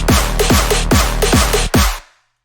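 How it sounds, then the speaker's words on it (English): Punchy hardstyle kicks with pitched, distorted tails drive a dubstep remix, layered with wide atmospheric pads and claps in a steady four-on-the-floor rhythm that stops abruptly just after two seconds, leaving silence. "And together with the hardstyle kicks, that sounds like this."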